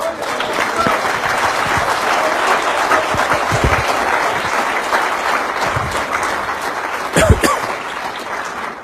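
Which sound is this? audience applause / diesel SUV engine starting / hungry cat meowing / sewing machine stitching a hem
audience applause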